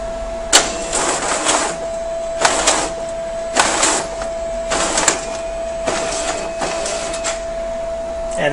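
Document scanner feeding litigation papers one after another, each page pulled through in a loud whirring burst with a click as it catches, repeated about seven times over a steady motor hum, close up and without talk.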